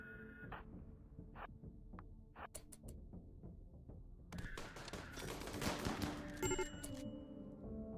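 RimWorld game gunfire: sparse single shots at first, then a denser burst of rapid machine-gun fire, fairly quiet and with no voices.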